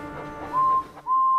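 A toy steam engine gives two loud, steady whistle blasts, a long one and then a second after a short break, with a low mechanical hum underneath.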